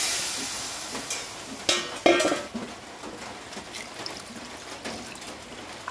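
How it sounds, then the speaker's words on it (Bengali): Water hits a hot pan of fried broken rice for khuder bhat and bursts into a broad sizzling hiss that fades, with a few metal utensil clanks and scrapes. "এই পর্যায়ে আমি পানি অ্যাড করে দেব।"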